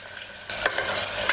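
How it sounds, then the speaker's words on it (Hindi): Finely chopped onion hitting hot refined oil in a pan, a quiet hiss jumping into a loud, close, crackling sizzle with a few sharp pops. "जैसे ही तेल हल्का सा गर्म हो जाएगा हम इसमें डालेंगे एक बड़े साइज की प्याज, जिसको मैंने बहुत बारीक काट लिया है।"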